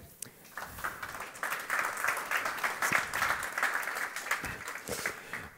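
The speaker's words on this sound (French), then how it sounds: "Merci de les applaudir." An audience in a planetarium venue applauds two presenters at a design and development talk, a dense, continuous clapping that swells after the first second and holds steady before tapering slightly.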